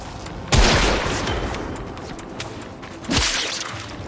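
Explosions in the video game Warframe: two loud, sharp blasts a few seconds apart, each with a rumbling tail that fades into a lingering debris-like wash.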